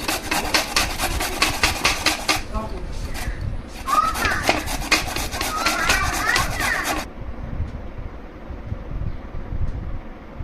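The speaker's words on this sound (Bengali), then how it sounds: "এখন আমগুলো আমি ঘষে নিচ্ছি।" Raw mangoes are grated by hand for mango pickle, a run of close, rhythmic rasping strokes that pauses briefly, resumes, then stops, while a voice talks intermittently nearby.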